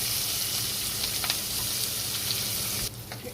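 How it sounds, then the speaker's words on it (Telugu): Capsicum pieces roast in ghee in a pan (bandi) for a kaju paneer curry, giving a steady, close sizzle with faint stirring clicks that thins out slightly near the end. "ఇప్పుడు ఇదే బాండీలో క్యాప్సికమ్ ఒకటి నేను ఇట్లా పీసెస్ కట్ చేసుకొని ఇవి కూడా కొంచెం రోస్ట్ చేసుకుంటున్నాను"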